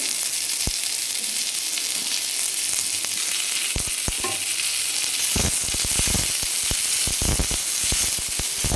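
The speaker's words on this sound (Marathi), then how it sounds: "याच तेलामध्ये आपल्याला लगेच एक मोठा कांदा आहे उभा कट करून घेतला तो टाकून घ्यायचा." Sliced onion frying in hot oil over a high flame until golden, giving a steady loud sizzle with crackling pops and bursts of stirring that get busier toward the end.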